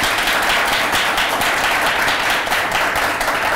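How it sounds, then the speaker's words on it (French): An audience at a talk event with students bursts into dense, continuous applause that stays loud and even throughout. "ça s'applaudit très fort."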